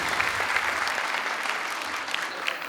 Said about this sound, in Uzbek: Mana shu joyda qarsak chalsanglar ham bo'ladi.